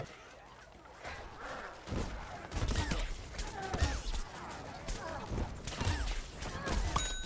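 Rapid gunfire bursts from a Plants vs. Zombies Garden Warfare 2 match, loud repeated volleys and impacts layered with game effects, with someone talking over the shooting.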